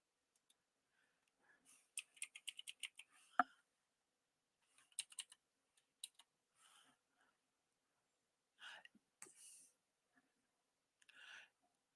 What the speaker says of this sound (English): I'm going to try typing it in